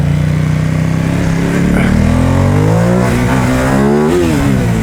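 A Ducati XDiavel motorcycle engine revs hard, its loud aftermarket exhaust rising and falling in pitch through several throttle blips, close and continuous.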